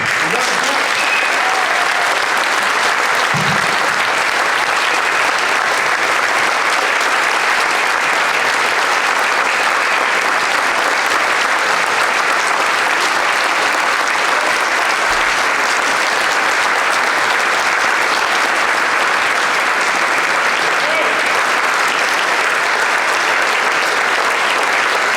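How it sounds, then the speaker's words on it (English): Audience at a community town hall meeting applauds in a long, even round of clapping that holds steady throughout, with faint voices now and then beneath it. "Well-deserved round of applause"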